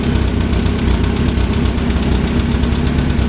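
A warmed-up 1963 Hillman Super Minx engine idles steadily and loudly up close, with an even, throbbing low rumble and no other sound over it.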